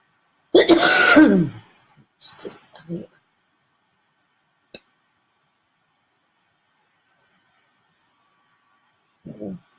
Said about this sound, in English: She's coughing too.